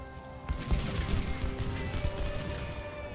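Musket volleys from the Ultimate General: Civil War battle game, a thick crackle of overlapping shots and booms at mid distance, irregular and continuous over a low rumbling battlefield bed.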